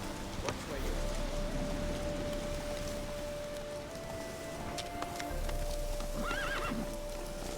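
Galloping hooves of a horse in The Witcher 3 on Nintendo Switch, with a whinny partway through and a steady game ambience of rain; the hoofbeats and neighing stay close and fairly loud from start to end.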